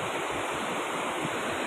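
Steady, loud broadband rush of water flowing below a swaying hanging bridge on the way to a waterfall, continuous and close with some wind noise and no talking.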